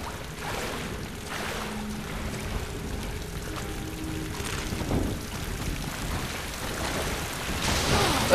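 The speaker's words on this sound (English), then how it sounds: "Ah, waterfall again." Waterfall in the Tomb Raider video game, a steady rushing, hissing wash of falling water that holds at an even, moderately quiet level throughout, with a faint tonal hum underneath.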